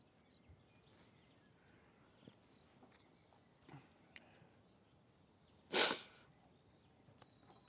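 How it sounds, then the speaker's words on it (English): A single sharp sneeze from someone with a pollen allergy, near and loud, outdoors by a surf beach on the west coast, after quiet scattered small noises. "we'll have a few sneezes before the tablets kick in"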